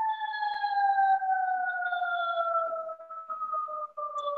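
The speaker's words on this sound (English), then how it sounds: "Can you hear an ambulance in the background?" An ambulance siren wails in a steady two-tone glide, both tones slowly dropping in pitch as the vehicle moves away, clear and sustained against an otherwise quiet background.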